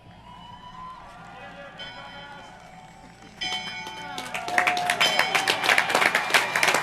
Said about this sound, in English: Mrs. Elam, please ring the bell.